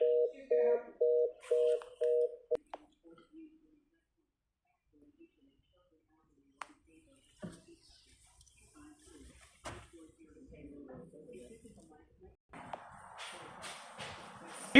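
A telephone keypad sends a quick run of about seven evenly spaced dialing beeps, fairly loud and close. Silence follows, then muffled voices and faint background noise.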